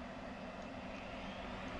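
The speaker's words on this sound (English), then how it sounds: "And we fire up the engine." L-39 jet engine lighting up in the DCS flight simulator, a dense, loud continuous roar with a steady low hum underneath, heard close and alone.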